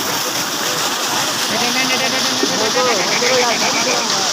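Water gushes loudly and steadily, a constant rushing roar filling the whole clip, with faint voices buried beneath it.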